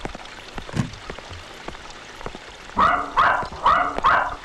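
A dog barks four times in a quick sequence, fairly loud and close, after a few seconds of quiet indoor room sound with faint scattered noises.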